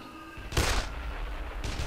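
Rifle fire in Dead Island: two loud, sharp bursts of gunshots about a second apart stand out over low background noise.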